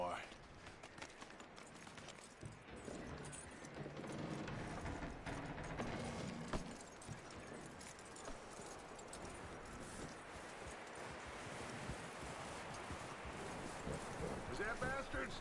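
Horse hooves clip-clop steadily across open ground in the Red Dead Redemption 2 video game, a running rhythm under a voice talking, with wind noise throughout.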